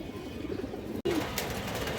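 A female pigeon with fourteen tail feathers coos softly and repeatedly at close range, a low murmuring call with a brief break near the middle.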